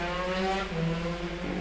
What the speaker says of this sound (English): very loud motorbike in the distance